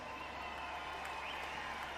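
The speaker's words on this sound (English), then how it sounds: "Can we give a cheer for this guy right here?" Crowd in an indoor arena at an Arenacross Tour 2023 race in Belfast cheers and applauds for rider Mel Pocock, a steady broad wash of clapping and crowd noise throughout, no clear peaks.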